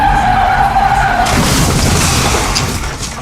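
A loud skid and crash-like burst, a high tone cutting off into harsh broadband noise that stays loud to the end, as a car hits a character in a Roblox horror game.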